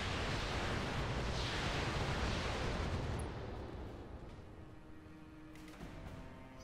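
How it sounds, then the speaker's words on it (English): Missiles fire in Roguetech, the BattleTech mod, as a loud, rushing, rumbling roar that fills the first few seconds, then fades into a lower, distant rumble with faint clanks. "Somebody's got missiles."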